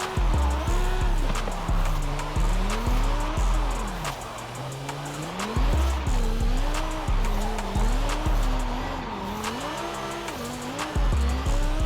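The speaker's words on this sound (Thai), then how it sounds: "เราจะเริ่มดิฟรถแปลกๆนะครับ เราจะเริ่มจากคันนี้ก่อนเลยแล้วกัน Lamborghini Assetto Elemento" A Lamborghini Assetto Elemento drifts in Forza Horizon 5, its engine rising and falling in pitch as the tires squeal loudly and steadily through long slides and repeated shifts.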